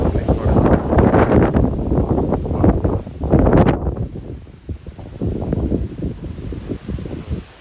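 Strong wind gusting and rushing during a rainstorm in Japan, loud and continuous with roaring surges and a brief lull near the end.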